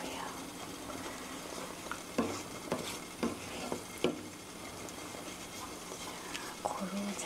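Fettuccine in rosé sauce is stirred in a pan with a soft simmering sizzle, repeated scraping and tapping strokes of the utensil, and a voice speaking over it.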